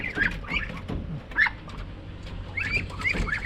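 A pet pigeon gives soft, repeated cooing calls at close range with a few brief chirps, and wing or body movement rustles faintly in between.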